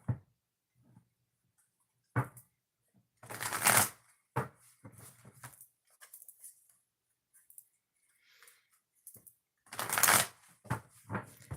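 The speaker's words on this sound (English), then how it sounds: "2 shuffles, and then we'll get started with your reading" Oracle cards being shuffled in two distinct riffling bursts, close and crisp, separated by quiet pauses and scattered light taps and flicks of handled cards.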